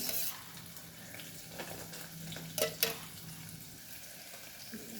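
Two tablespoons of oil heating in a frying pan with a faint, soft sizzle and a couple of light clinks, quiet and close with no voices.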